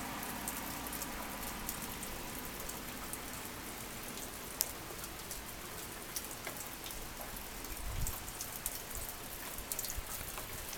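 Steady rain falls outside on Christmas Day, a soft continuous patter of drops on surfaces with a few louder taps and a brief low thump, no voices present.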